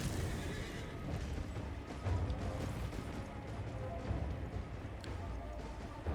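Noisy, dense action sounds from the video game Elden Ring, with a horse whinnying amid rumbling and clatter, steady and fairly loud throughout, with some voice mixed in.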